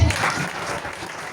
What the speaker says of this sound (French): Acclame le nom de Dieu.